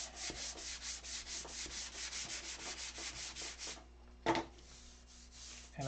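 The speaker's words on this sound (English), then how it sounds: "Sand it with 180 here." Wood being sanded with 180-grit sandpaper, steady rhythmic back-and-forth rubbing strokes close up for several seconds, then a brief pause, a single sharp knock and a return to sanding.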